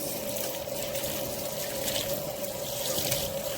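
Steady tap water runs into a kitchen sink while a nonstick pot from a CAROTE cookware set is washed beneath it, a continuous close splashing wash with no talking.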